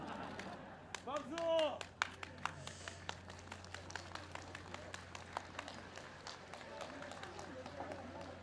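Audience at a presidential farewell speech outdoors claps in a scattered, moderately distant patter after a brief spoken line, the claps continuing steadily at a faint to moderate level.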